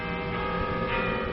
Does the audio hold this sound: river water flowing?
no